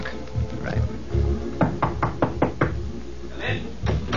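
Knocking on an office door as a radio drama sound effect, a run of crisp, close raps in a steady rhythm, with a voice briefly before and after.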